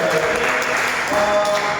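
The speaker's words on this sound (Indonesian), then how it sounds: "Kita beri tepuk tangan hasil dari" Classroom applause from students after a group presentation, a steady dense patter of clapping that fills the short moment at a moderate level.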